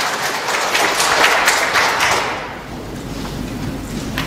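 A church congregation claps loudly for about two and a half seconds in a dense burst, then the clapping fades to a quieter room.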